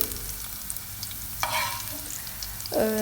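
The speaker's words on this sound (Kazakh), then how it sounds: "алдын ала табаны қыздырып, оған кішкене сұйық май құйып, жаңағы болгар бұрышын қуырамыз" Bell pepper frying in a little oil in a preheated pan, a steady close sizzle with brief stirring scrapes and clatters on top, no voices.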